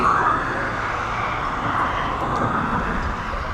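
A Ryanair jet airliner just after takeoff near East Midlands Airport, its steady broad engine roar continuous and fairly loud throughout, without voices.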